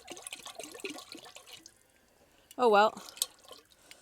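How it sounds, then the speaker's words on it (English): Elderflower syrup pours into a bottle and overflows, giving a short, loud liquid gush with dripping and trickling around it, close by, after brief talk. "I always, with one bottle, end up getting totally absorbed and pouring the syrup into the bottle, and it always overflows."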